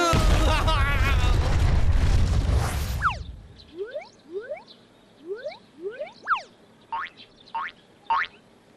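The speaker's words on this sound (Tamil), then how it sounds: "அச்சோ, வெடிகுண்டு." A cartoon bomb blows up with a loud, sustained roaring blast lasting about three seconds, then cuts to a quick series of springy, rising boing effects.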